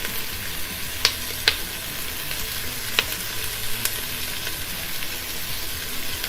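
Garlic and ginger frying on a Blackstone griddle for birria, a steady loud hiss of sizzling oil with a few sharp clicks of a utensil against the flat top, close up and without talk.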